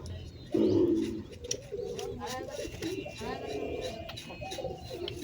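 Pigeons coo at close range in a few low, throaty calls, partly overlapped by people talking nearby.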